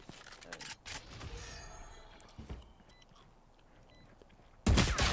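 Gunshots from a tactical shooter video game come as scattered quiet cracks and short bursts, then end in a sudden loud close volley.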